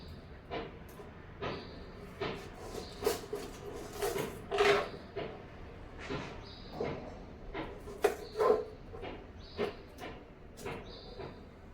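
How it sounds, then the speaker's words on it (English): An onion being cut with a knife on a board while making egg rolls, giving a series of irregular sharp taps and knocks with short pauses between them. "We will start by cutting an onion."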